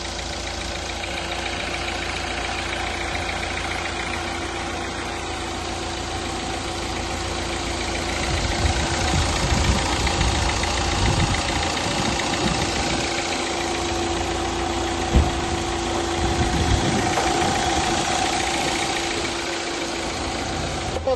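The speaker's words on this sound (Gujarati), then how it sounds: "આપણે ગાડી ચાલુ કરશું. ગાડી ચાલુ કરો." A Hyundai i20 diesel car engine running at idle, a steady mid-pitched rumble with a light knocking clatter, close and continuous with no talk.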